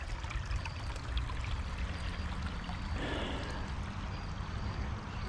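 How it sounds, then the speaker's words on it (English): A small feeder stream flows into a bigger creek outdoors on a fall day. It makes a steady, close babbling rush of water that continues unchanged throughout, with no voices. "Little stream, little feeder stream going into the bigger creek."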